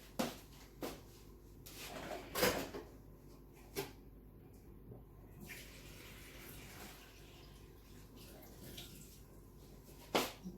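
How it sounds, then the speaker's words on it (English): A small amount of water poured into a pot of party jollof rice cooked without added color, heard as faint, brief splashes and trickles with a few soft clatters against a quiet background. "I'll just add just a little water"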